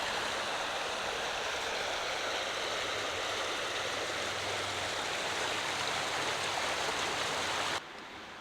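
Mosquito Creek rushing steadily nearby, a loud continuous wash of flowing mountain water that holds even throughout before dropping slightly at the very end, with no voices.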